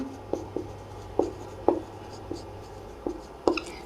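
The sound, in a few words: writing on paper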